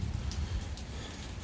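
Steady rain falling outdoors during a Superman celebration in Metropolis, a dense continuous patter on surfaces with no gaps, moderately loud and close.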